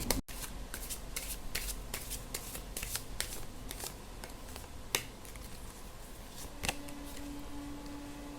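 Tarot cards being shuffled and drawn, with a run of crisp riffling flicks and sharp card snaps close by, a steady papery rustle between them, and no talking.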